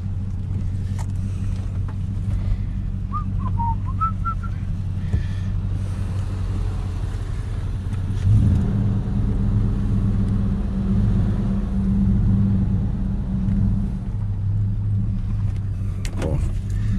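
A diesel truck engine, a 7.3 litre turbo diesel Ford F-250 4x4, rumbles steadily at close range while towing a car out by its front tow hooks, with a rise in low engine drone midway.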